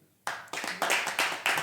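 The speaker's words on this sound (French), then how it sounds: "pplaudissements pour l'histoire de Philippe, l'histoire du ski, s'il vous plaît, des moniteurs de ski, applaudissez." Live studio audience clapping at a French comedy show, several loud bursts of applause starting after a brief quiet moment, close and full with no talk over it.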